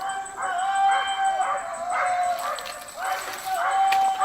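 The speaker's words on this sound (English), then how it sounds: "even the canine squad, you can hear the barks there" Police canine squad dogs bark and yelp in repeated bursts at a moderate distance while someone talks over them, with a thin steady whistle tone running through the scene.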